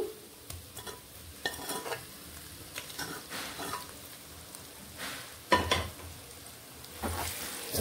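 Gongura paste is stirred into cooked chicken pieces in a pan for a gongura chicken pachadi, giving a gentle sizzle with repeated scraping, stirring strokes at an uneven pace, close and fairly quiet.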